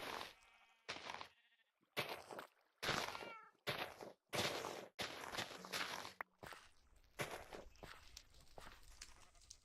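A cat in the Minecraft video game meows repeatedly, with short separate cries spaced through a stretch of footsteps and quieter game ambience.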